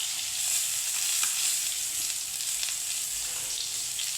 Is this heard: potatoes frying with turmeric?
yes